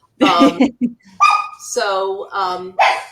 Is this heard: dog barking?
yes